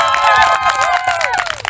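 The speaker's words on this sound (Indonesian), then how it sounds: "Tepuk tangan buat teman-teman Pasar Wajo." A crowd cheers and shouts for Pasar Wajo students at a university talent show, with loud voices rising together in a brief burst of noise.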